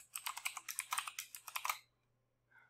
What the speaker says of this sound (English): So I'm going to type this one out just for fun